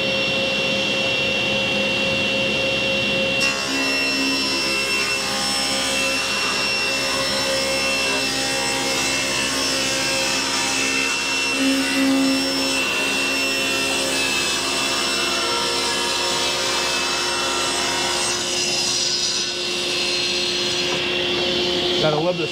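A power saw cuts segments from a walnut board for a brick-pattern utensil crock, a loud sustained whine that starts abruptly and runs steadily for most of the stretch, with a voice briefly heard over it.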